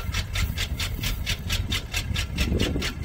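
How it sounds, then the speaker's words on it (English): A 1970 Ford Mustang Mach 1 idles roughly and close by, its engine loping in an uneven pulsing rhythm of a few beats per second that runs steadily throughout with no voices. "And it actually idles better than this."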